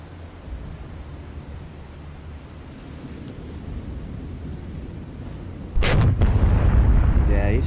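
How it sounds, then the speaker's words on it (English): Ship guns fire in the naval video game War on the Sea, set in the Battle for the Atlantic: a low, steady rumble of sea and engines, then a loud, booming salvo with heavy follow-up blasts near the end. "he's firing at the guy that's in front of him, so he's firing at this guy"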